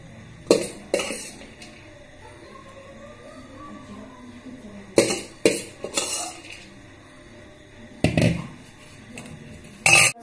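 Metal utensils clink and scrape against a plate and bowl as street-style bhel puri made with puffed rice is served onto a plate, in a few short bursts separated by quiet pauses.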